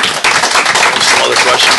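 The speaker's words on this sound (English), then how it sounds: "let's round of applause" A crowd at a town council meeting claps in a dense round of applause that starts abruptly and stays steady and loud throughout.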